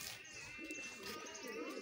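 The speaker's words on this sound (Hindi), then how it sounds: "यहाँ पे हर किस्म के कबूतर हैं" Soft, low pigeon coos murmur faintly beneath a steady hiss of background noise.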